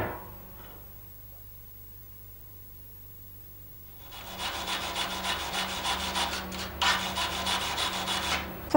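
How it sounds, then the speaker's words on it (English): Tack welds on metal are cleaned with an abrasive tool, starting after a quiet stretch as a steady, close scraping rasp that runs on for several seconds with a brief louder burst near the end. "Clean the tack welds"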